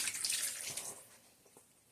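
Water poured onto sweet potatoes in a baking dish, a brief close splashing stream that fades within about a second, followed by faint trickles and drips.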